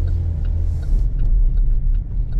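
Engine of a 2024 GMC Terrain AT4, a small turbocharged four-cylinder, accelerating: a steady, loud low rumble with road noise throughout, no voices.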